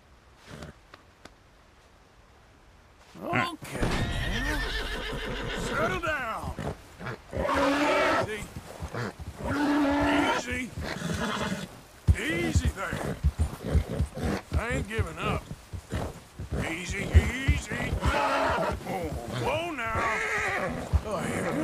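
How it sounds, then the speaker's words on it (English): A white Arabian horse neighs and whinnies in loud, repeated bursts close by, with a person speaking soothingly in between and over the calls. "That's a good horsey."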